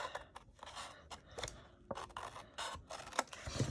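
Scissors cutting paper for a junk journal: a close, quiet series of irregular snips and crisp rustling slices, with short pauses between cuts.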